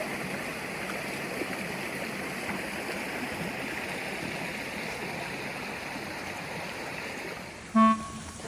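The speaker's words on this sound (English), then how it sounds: "The babbling stream behind us was just so nice." A babbling stream at a Nevada boondocking campsite, a steady close wash of flowing water throughout, with a brief tonal horn-like beep near the end.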